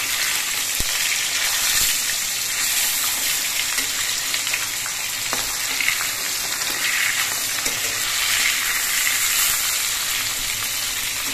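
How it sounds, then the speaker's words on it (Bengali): Pieces of catla fish fry in hot oil, making a constant bright crackling sizzle with scattered pops throughout, close and fairly loud, with no voices. "মাছগুলোর এক পিঠ কিছুক্ষণ ভাজা হওয়ার পর মাছটা আমি উল্টে দিচ্ছি।"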